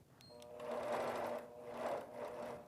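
A longarm quilting machine stitches quilted fabric in a steady mechanical whir, swelling and easing over a few seconds as the stitching runs on, close and moderately loud with no talk.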